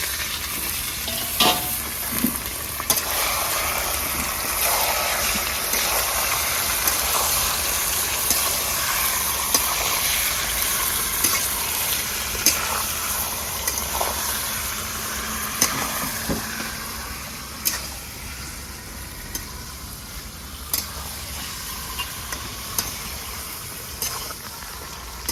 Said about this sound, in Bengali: হাইতে করে ভাজতে হবে এই চিকেনটা